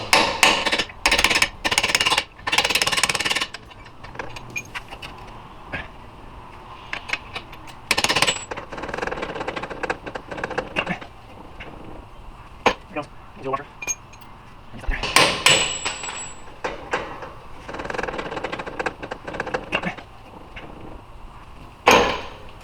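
Hammer blows knock an old shock absorber out of its top hat mount on a 5th gen Toyota 4Runner during a Bilstein 5100 lift kit install: loud, close metallic whacks in irregular bursts, with a brief ringing clank partway through.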